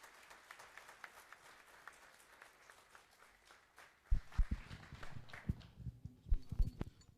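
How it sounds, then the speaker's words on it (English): An audience at a study circle meeting applauds, starting as faint scattered claps and then growing into louder, uneven clapping near the microphone. "Now I request members for a loud applause."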